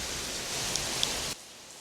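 Heavy rain pours down in a steady, dense hiss, recorded outdoors on a DJI Mic Mini wireless microphone, and the roar drops abruptly quieter near the end as noise reduction is switched on.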